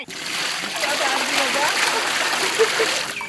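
Cold water splashing and trickling as it is poured into a pan, close and steady for a few seconds, with a brief louder slosh near the end.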